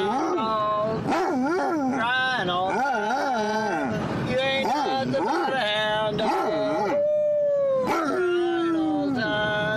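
A hound dog howls along with a family singing a song in a shop, long wavering howls rising and falling between the human singing voices, close and loud throughout.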